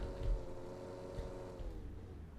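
Engine revving steadily under throttle in Car Simulator 2, a low humming drone with a faint rising tone, quiet and unbroken over a couple of seconds.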